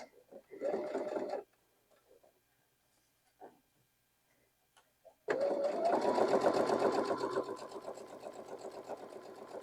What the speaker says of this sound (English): So I'm going to just sew this little one first